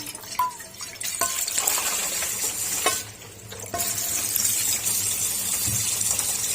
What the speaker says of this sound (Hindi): इस तरह से हमने इसके ऊपर पानी ऐड कर देना।